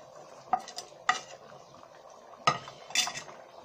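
A spoon stirs ground garam masala and kasuri methi into a pot of boiling black masoor dal, giving four distinct metallic clinks and scrapes against the pot over a quiet bubbling background, with no voices.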